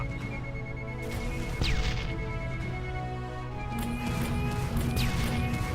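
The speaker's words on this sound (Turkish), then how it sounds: "zırh kırılıyor yavaş yavaş" Iron Man armor breaks apart in the Roblox Iron Man Simulator game: a loud, sustained crashing and grinding effect with sweeping whooshes, running continuously without speech.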